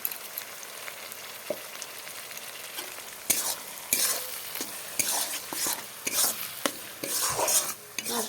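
Ground spices and browned onion are stirred in hot oil in a pan. A quiet sizzle comes first, then a utensil scrapes and knocks against the pan in busy, irregular strokes, close by.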